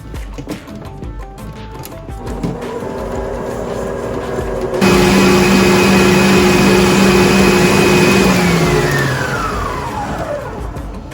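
An electric mixer whirs through peanut butter cheesecake batter with cream cheese and flour, a loud steady motor drone that kicks in abruptly and winds down toward the end, with no talking.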